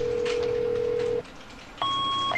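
A mobile phone sounds with a steady electronic tone lasting about a second, then a short pause, then a higher two-part tone that repeats, close and clear with no talking.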